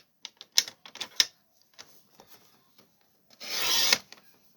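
Blade trimming vellum card stock: a few quick, light scraping strokes, then a longer, louder slicing rasp near the end, close and quiet.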